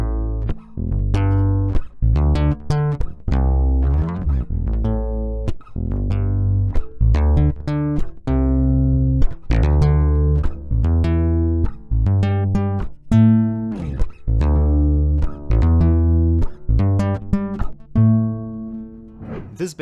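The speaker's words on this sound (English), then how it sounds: "when you plug it in, that's where it gets interesting. It sounds way better, and the preamp and pickup system do an excellent job of catching the natural sound of this guitar" A Fender FA-450CE acoustic-electric bass is played plugged in through its preamp and pickup, producing a run of deep, round plucked notes and short melodic phrases that ring out close and clear with no talking.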